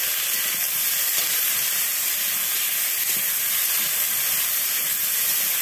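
Cauliflower and potato pieces with turmeric fry in a pan over a fierce wood and bamboo fire, a loud, steady hiss of sizzling oil that never lets up.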